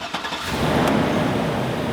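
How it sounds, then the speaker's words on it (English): An original engine in a Hummer with over 300,000 miles fires up and settles into a steady, loud, close running drone, with no one talking. "This baby still has the original engine in it."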